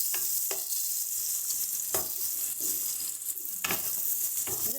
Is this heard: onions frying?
yes